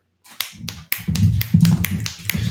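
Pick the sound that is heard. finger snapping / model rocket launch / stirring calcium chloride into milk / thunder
finger snapping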